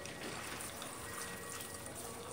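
Water sprays steadily from a hose used as a makeshift warm outdoor shower at the beach, a continuous broad hiss heard close and alone for the whole moment.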